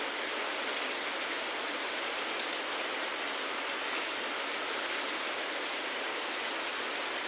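Heavy typhoon rain pours down in a steady, dense hiss that stays loud and unbroken, with no other sound over it.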